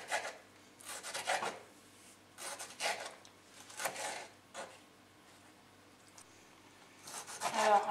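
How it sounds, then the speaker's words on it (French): Serrated knife sawing through tomatoes to dice them small, a series of short rasping cutting strokes in separate bursts close by, with quiet pauses between. "j'utilise un couteau à dents. Ça paraît bizarre, je sais pas, mais en tout cas c'est beaucoup plus efficace pour couper les tomates"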